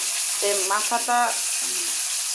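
Fish sizzling in hot oil in a home kitchen pan, a steady bright frying hiss throughout, with a voice speaking briefly over it.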